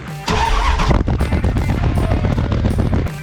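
A 1995 Dodge Ram 1500 pickup engine with a new muffler cranks and catches, then settles into a loud, rough, throbbing idle with a deep exhaust rumble.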